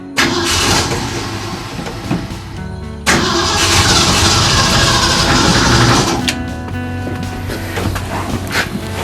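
A 1966 Chrysler New Yorker engine turns over and catches with an odd start, then runs with a rough, uneven idle, loud and close, with a mechanical rattle.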